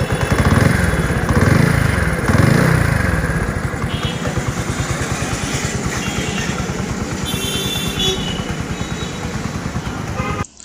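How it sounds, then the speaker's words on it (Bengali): A modified Dayang 80cc motorcycle engine putters steadily at idle, close and continuous, with a brief horn-like tone near the end. "ইঞ্জিনের সাউন্ডটা দেখেন"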